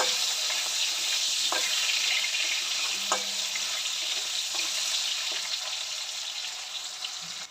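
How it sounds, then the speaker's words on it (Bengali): Potatoes fry in hot oil with a bay leaf in a kitchen pan, giving a continuous close sizzle. A few faint clicks from stirring break through, and the sound eases slightly toward the end. "আলু ভাজা ভাজা হয়ে গেছে"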